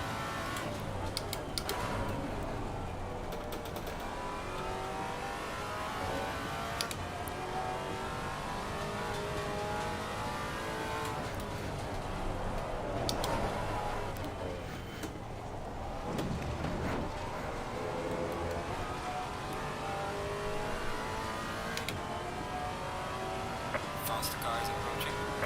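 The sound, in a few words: race car engines in Assetto Corsa Competizione, from a video game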